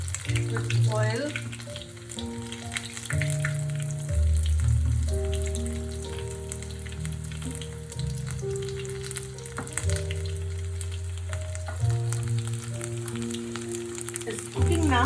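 Nepalese potato chops frying in hot oil, a steady close crackling sizzle that runs throughout, under background music.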